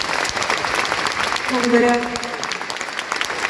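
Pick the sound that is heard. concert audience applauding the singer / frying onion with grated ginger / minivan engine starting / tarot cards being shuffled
concert audience applauding the singer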